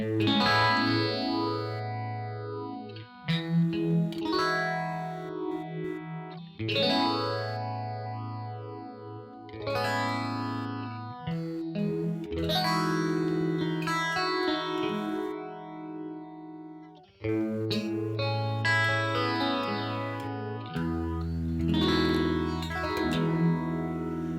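Electric guitar played through a Line 6 MM4 modulation pedal with the depth knob turned all the way down, giving sustained distorted chords and melodic lines with a gentle chorus-like shimmer and echo, loud and continuous without talk.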